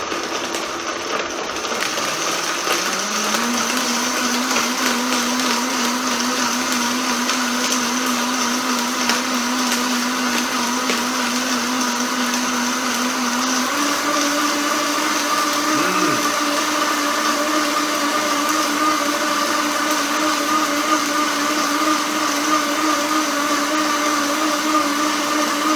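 A Vitamix blender runs steadily for the whole stretch, a loud, continuous motor whine that shifts up in pitch partway through as the speed changes, with no talking over it.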